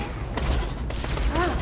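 Gunfire in Borderlands 2, a steady spray of shots clattering under a German-speaking player's voice, with sharper bursts cutting through midway.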